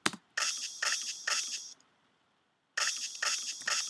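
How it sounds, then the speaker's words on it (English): A programmed snare drum sample laced with noise plays in a beat: three crisp, hissy hits in steady rhythm, a brief silence, then the pattern resumes, loud and alone. "The snare drum sounds like this."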